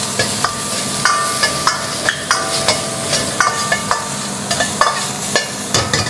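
Shallots frying in oil in a wok, a steady crackling sizzle with repeated sharp metal spatula scrapes and clanks against the wok, close up and fairly loud, in a busy, regular stirring rhythm.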